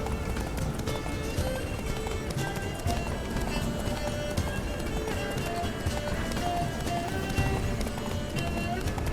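Roach, Geralt's horse in The Witcher 3: Wild Hunt on PS5, gallops with a continuous drumming of hooves, loud and steady under a dense bed of game music and ambience.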